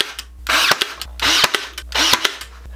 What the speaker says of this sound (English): I'm going to add some brad nails in between each of these.